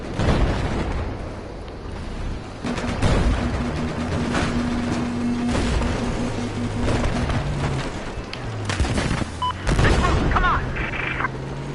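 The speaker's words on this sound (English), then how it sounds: "Heard the explosions of the missile." Missile and shell explosions thunder in a Battlefield 4 tank battle, with heavy booms, rumbling blasts and sharp bursts layered over continuous engine drone and gunfire, loud and close.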